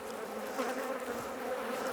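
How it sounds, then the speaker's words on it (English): Honey bees buzzing in a dense, steady drone while a Langstroth hive is opened for inspection, the hum constant and fairly close with no break for two seconds. "So we've still got lots of bees,"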